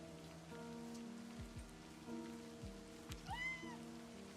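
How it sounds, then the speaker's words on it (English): Steady patter of rain on a surface under soft ambient music in the video game Livber: Smoke and Mirrors, with a faint meow rising briefly near the end. "You shouldn't stand in the rain any longer."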